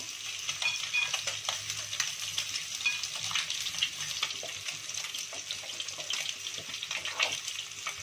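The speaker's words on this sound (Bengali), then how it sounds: "আমি গরম জল করে রেখেছিলাম, জলটা দিয়ে দেবো ডালে" Hot water poured into half-cooked lentil dal in a pan, a continuous splashing hiss with bubbling and stirring, close and steady throughout.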